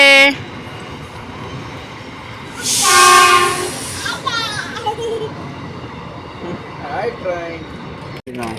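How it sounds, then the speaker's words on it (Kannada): A train rumbles past nearby with a loud horn blast, wheels clattering steadily, while people chatter in the background. "ಟ್ರೈನ್ ಹೋಗ್ತಾ ಇದೆ"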